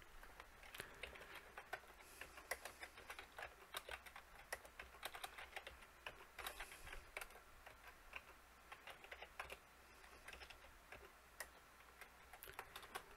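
Soft, rapid clicking of a computer keyboard as stock ticker symbols are typed into an Excel sheet, faint and close, in irregular bursts over a quiet room hiss.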